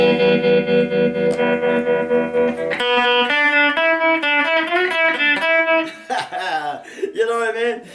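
An electric guitar on a completed Strat-style build plays through a tremolo effect, sustained chords and notes pulsing and wavering, loud and close, with the tone changing midway and a short dip near the end.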